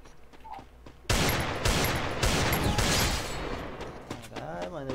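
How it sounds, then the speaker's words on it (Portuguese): Rapid video game gunfire aimed at an eagle, a loud dense burst of repeated shots lasting a few seconds, with a voice briefly audible around it. "eu dei 30 tiros com essa águia e não acertei um só agora"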